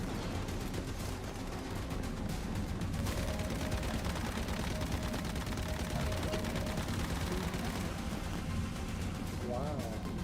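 Bursts of gunfire from the survival shooter game Once Human roll on continuously and loudly, dense and overlapping, with voices talking over them.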